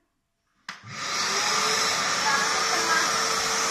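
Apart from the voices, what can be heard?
Nilfisk Multi 30 wet and dry vacuum cleaner running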